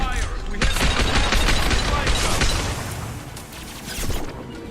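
Dense, loud gunfire from the Mass Effect 2 video game keeps up rapid bursts and booming impacts, with a brief lull near the end. A player's voice talks over the shooting.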